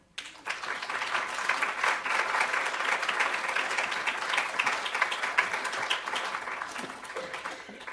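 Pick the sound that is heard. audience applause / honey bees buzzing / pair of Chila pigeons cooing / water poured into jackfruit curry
audience applause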